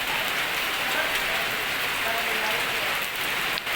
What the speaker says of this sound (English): But it's a huge welcome. The rain.